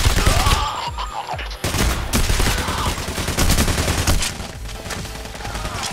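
Sustained rifle fire in the heist shooter PayDay: The Heist, loud rapid bursts of gunshots filling the whole stretch, with a brief lull partway through before firing resumes.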